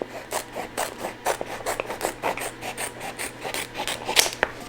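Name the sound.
cutting 3D puff heat transfer vinyl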